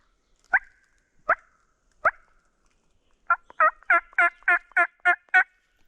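Wild turkey gobbler gobbling in open woods during a spring hunt: three sharp single calls spaced apart, then a rapid rattling gobble of about eight pulses, fairly loud and clear with no talk.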